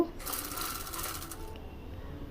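Sewing machine running steadily as it stitches the front part of an Aliya-cut frock, a continuous close whirring hum that stops short near the end.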